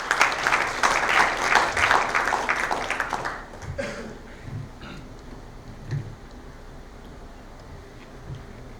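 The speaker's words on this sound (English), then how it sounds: "Can I please have a round of applause?" An indoor corporate awards audience gives a burst of applause that fades after about three seconds, leaving a quiet room with scattered faint sounds.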